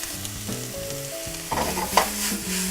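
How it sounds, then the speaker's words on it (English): Leeks and peppers sautéing in butter in a sauté pan, a constant bright sizzle with stirring scrapes and a sharp utensil knock near the end, over a faint background tone. "we're going to heat up a saute pan. Add a little butter to it. Our leeks, our peppers, starting to caramelize."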